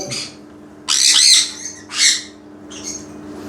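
Pet birds squawking loudly at feeding time, three harsh bursts of calls close by with short pauses between, over a quiet room background.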